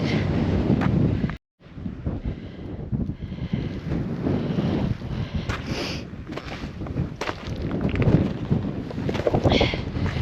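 Strong wind buffets the microphone on an exposed mountain ridge at Crinkle Crags in the Great Langdale fells, a loud, continuous roar with gusting surges and one brief drop-out, no talk.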